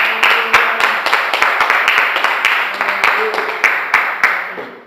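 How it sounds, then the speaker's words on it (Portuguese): Church congregation clapping in praise for several seconds, a dense, steady patter of many hands filling the room, with loud individual claps standing out near the front. "você pode dar um aplauso ao Senhor Jesus?"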